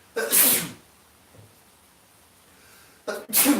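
Two loud, close sneezes from a person during a live stream about pet snakes, a sharp burst at the start and another about three seconds later, with near silence between them.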